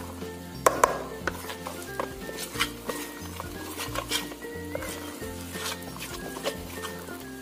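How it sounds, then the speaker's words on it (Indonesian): A spoon or whisk stirs a thick batter of fermented cassava (tape) and flour in a bowl, giving soft, irregular scraping and wet patting sounds with a few sharper knocks, over faint background music. "Kemudian kita aduk lagi sampai tercampur rata"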